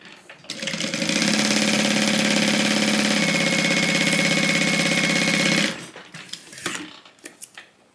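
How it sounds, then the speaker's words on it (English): Sewing machine stitching tote bag fabric at a 3/8 inch seam allowance, a steady loud mechanical whir running for about five seconds then stopping, followed by fabric handling noises. "We're going to be sewing this with a 3/8 inch seam allowance."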